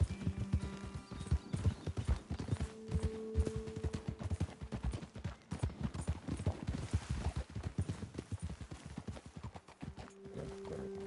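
Horse hooves clip-clop steadily over the ground in the video game Red Dead Redemption 2, several horses moving together, with faint background music humming underneath.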